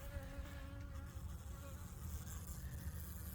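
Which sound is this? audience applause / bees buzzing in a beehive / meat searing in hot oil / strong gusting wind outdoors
bees buzzing in a beehive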